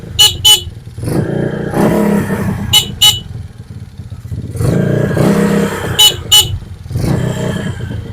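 A motorcycle horn wired directly without a battery or capacitor on a stripped skeleton bike sounds in several short, loud honks, bursts separated by gaps of engine and mechanical noise, close to the listener.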